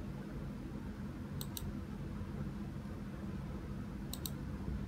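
Two quick pairs of computer mouse clicks while working in Microsoft Word, faint and crisp over a steady low background hum, spaced a few seconds apart.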